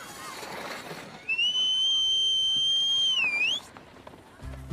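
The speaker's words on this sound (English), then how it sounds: "They sure know your whistle" A loud, long two-note whistle calls children home for lunch, a steady high tone that swoops at the end, over a hum of outdoor background noise.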